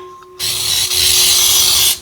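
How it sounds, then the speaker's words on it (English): Baker's Joy non-stick baking spray hisses into a bundt pan in one loud, continuous burst lasting about a second and a half, close up, with a faint hum under it before the spray starts. "And I spray it generously."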